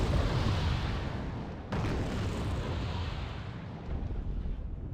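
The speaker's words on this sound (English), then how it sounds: "that artillery is surprisingly close to the CV" Artillery fire in Wargame: Red Dragon on a paddy field map, heard as a continuous loud rumbling barrage with a sharp distant boom cutting through partway, no voices over it.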